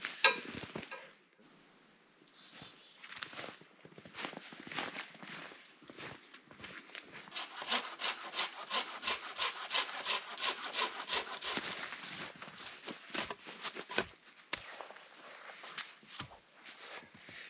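A hand saw cutting wood outdoors in winter, close rasping strokes that start hesitantly and then settle into a fast, steady back-and-forth rhythm before slowing near the end.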